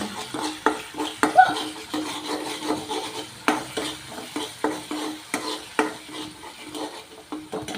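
Schezwan fried rice is stir-fried in a pan, with a faint background sizzle broken by brisk, repeated scraping and clattering spatula strokes against the metal, close and fairly loud, no speech.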